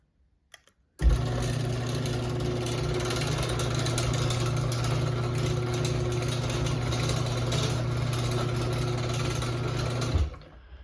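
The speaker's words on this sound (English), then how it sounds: "this is actually a really quiet operator, despite the fact that the trolley is rattling some" A LiftMaster ATS211R garage door opener runs for about nine seconds, its steady motor drone joined by a rattling trolley, then cuts off abruptly. The sound is close and continuous, with no talking.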